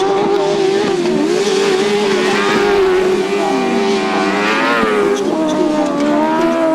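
Grasstrack motorcycle racing, with loud, sustained engine drone rising and falling in pitch as the bikes run down the back straight, fairly close and dominating throughout.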